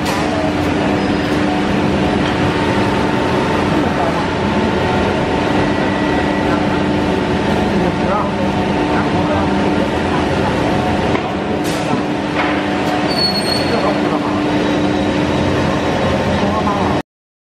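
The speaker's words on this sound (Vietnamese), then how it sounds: "Máy in tem sẽ in tem lần lượt lên trên từng miếng ván một." A heavy-duty CNC nesting machine with a label printer works on wooden boards, giving a steady loud industrial hum and whine throughout, with faint clicks and a short high tone near the end.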